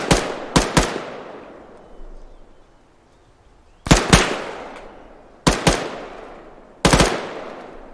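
Bursts of machine gun suppressing fire in Arma 3: four short, sharp double or triple volleys, loud and close, separated by pauses with decaying echoes between them.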